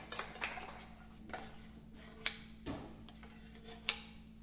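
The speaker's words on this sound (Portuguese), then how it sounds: "Pega outra colher dessa aqui, Matheus, pra gente pegar a manteiga." A spoon scrapes and clinks against a dish while scooping brigadeiro de leite Ninho with butter, a scattering of light, close metallic taps and scrapes at a quiet level, with no talking.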